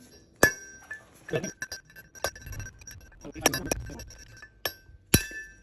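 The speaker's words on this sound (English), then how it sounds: "we're just going to hit all four corners and knock it out with the brass drift and hammer" Metal strikes ring out in a series of sharp, uneven hammer blows on a brass drift knocking out a wheel bearing race on a Toyota/Lexus solid front axle, each hit clanking brightly with short pauses between.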